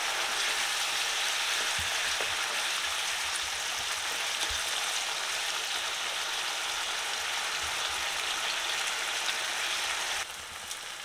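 Chicken cooking in oil over medium-low heat for a street-style chicken roll, a soft, even sizzle and hiss running steadily throughout with a few faint knocks and no voices.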